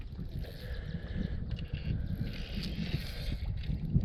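Steady wind blowing across open water during bass fishing from a small boat, a constant rushing buffet against the microphone with low rumble, continuous and moderately loud.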